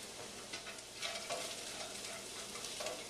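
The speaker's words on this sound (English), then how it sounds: "put your sausage and bacon back into the pan" Sausage and bacon sizzling in a hot pan of bacon fat as a utensil stirs them around, a steady bright crackle with scraping strokes, close up and alone.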